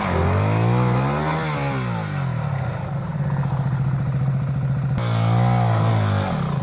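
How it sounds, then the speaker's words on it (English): KTM enduro motorcycles on an easy trail ride to a pub, engines droning loud and close with a rising rev early on and a rough pulsing throttle toward the end, without speech. "the KTMs of Pete, Nick, Mal and Adrian as us real men rode our real bikes on this nice, fun, easy ride to Paxton Pub"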